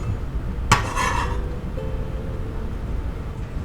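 Chopped tuna patty pieces are tipped into a bowl in a kitchen, a single sharp clatter of food and utensil against the bowl followed by faint quiet handling, close and alone with no talk.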